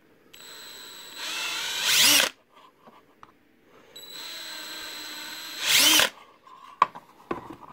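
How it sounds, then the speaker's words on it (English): A small power drill with a 1/8 inch bit bores a hole to enlarge a 1/16 inch one while fitting a Sonoff TH relay, in two whirring bursts that rise in pitch under load, followed by a few light clicks. "What I'm going to do is I'm going to drill that out a little bit bigger."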